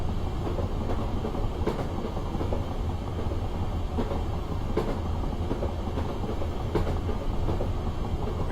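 A Class 455 electric train on the Isle of Wight Metro in Train Simulator 2016 rumbles along the rails with a steady, loud drone and periodic clicks as the wheels pass rail joints, with no voices.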